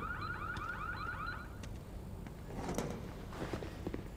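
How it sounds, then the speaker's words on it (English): A shop alarm system is triggered in the Need for Speed Unbound video game, sounding as a rapid warbling electronic siren. It breaks off partway through, and clattering, door-like knocks and bangs follow. "Kid, you triggered the alarm system."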